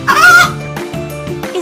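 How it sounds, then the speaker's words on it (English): A hen on a farm gives a few loud, close clucks in quick succession, with no other sounds. "Yes, it is a hen."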